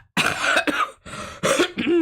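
Several harsh coughs come in quick succession, close and loud, with brief gaps between bursts.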